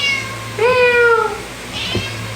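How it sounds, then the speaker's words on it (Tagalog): A pet cat meows repeatedly close up, a long rising-falling mew followed by a shorter fainter one, over a steady low background hum. "Yung pusa ko may sinasabi siya pero hindi ko maintindihan."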